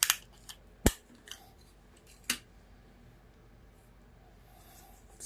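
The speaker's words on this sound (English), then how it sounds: "Not the scissors I should be using, but that's okay." Scissors snip through ribbon in a quiet room during a paper craft project, with a few sharp isolated cuts, the loudest near the start, followed by faint rustling.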